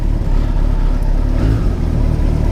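A Kawasaki Concours 14 motorcycle with nearly 100k miles idles steadily after a cold start, a close, continuous low engine rumble with no talking.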